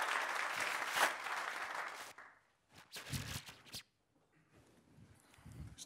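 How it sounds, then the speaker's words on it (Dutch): Audience applause at a Dutch talk event on social business, a dense burst of clapping for about two seconds that cuts off, followed by scattered shuffling and handling noises and a few faint claps. "Applaus, Samuel Driessen."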